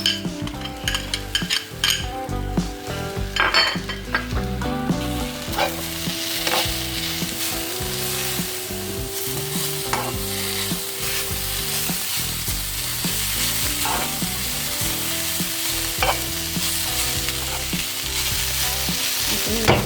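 Russian omelette ingredients frying in a pan, a loud continuous sizzle up close with frequent scraping and clinks of a utensil stirring against the pan, no talking.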